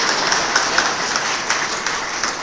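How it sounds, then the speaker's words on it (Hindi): Audience clapping loudly to welcome a student at a felicitation ceremony for selected railway exam candidates, a dense, steady wash of applause filling the whole moment. "जोरदार तालियों के साथ स्वागत"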